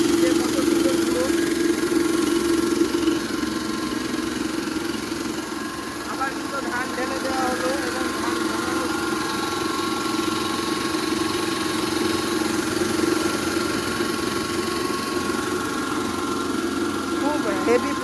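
An auto rice mill machine for husking paddy runs with a continuous loud mechanical drone and steady vibration, with a voice talking over it.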